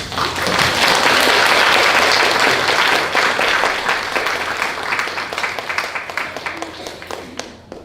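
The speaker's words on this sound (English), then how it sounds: "can we have a last big round of applause for Agus and his speakers?" Applause from an audience at the end of an academic panel, a dense burst of clapping filling the room at full strength, then slowly thinning into scattered claps as it fades out.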